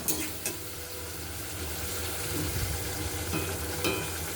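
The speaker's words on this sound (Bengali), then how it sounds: "এবার আমি ঢাকা দিয়ে ভালো মতো কষিয়ে নেব।" Spice paste for a rohu fish curry fries in a pan with a soft, continuous sizzle, broken by a few sharp scraping strokes of stirring.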